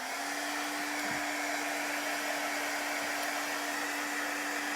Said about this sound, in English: I'm just using an embossing heat gun to dry.